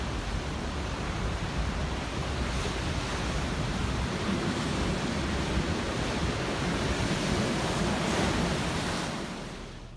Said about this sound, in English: There's this massive, these massive waves coming in.